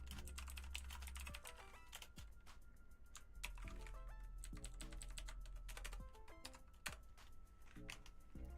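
Someone types steadily on a computer keyboard resting on a lap, with rapid soft clicky keystrokes and occasional heavier taps, close and continuous over a low background hum.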